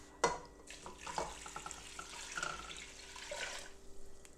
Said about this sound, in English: And now I'm gonna add 6 cups of vegetable broth.